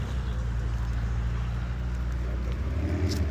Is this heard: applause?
no